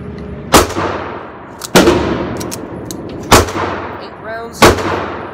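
A Dan Wesson Valkyrie Commander pistol fired slowly on a test platform, four loud, close, sharp shots spaced about a second apart, each followed by a brief ringing decay.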